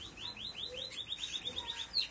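Female breeding bird of the oro molío line chirping in a cage, giving a quick, regular series of thin repeated chirps close by at moderate volume, with no talking.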